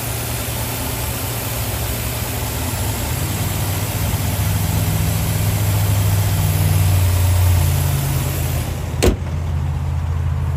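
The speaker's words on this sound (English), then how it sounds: "Six cylinder engine." A 2010 Nissan Maxima's six-cylinder engine idles with a steady, loud, even drone throughout, broken by one brief knock near the end.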